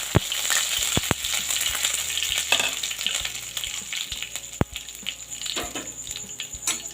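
Curry leaves crackle and spit in hot oil, with dense close sizzling broken by sharp pops, part of a sabudana dish being cooked.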